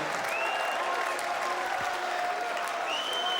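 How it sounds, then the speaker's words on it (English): Crowd applause fills a darts hall at the 2008 Lakeside World Final after Simon Whitlock's game shot on double top, a steady dense clapping with cheering, constant and fairly loud throughout. "they're applauding"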